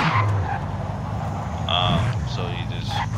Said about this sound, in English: all you gotta do is just move back and forth with the car and get the tires really hot